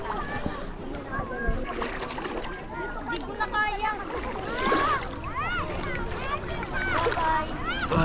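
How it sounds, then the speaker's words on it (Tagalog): Water splashes and sloshes as people swim in a river, with irregular close splashing running throughout under steady talk and children's voices. "Swimming na tayo sa ilog."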